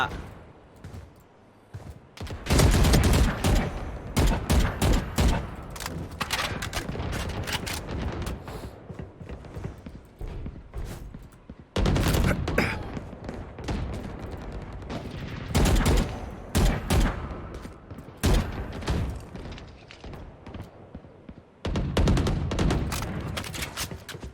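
Rapid gunfire bursts from a Valorant match, loud and near, coming in repeated salvos with short gaps between them while someone talks over the shooting.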